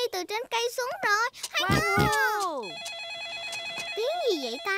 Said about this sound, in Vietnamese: Là tiếng điện thoại di động của heo ba đang reo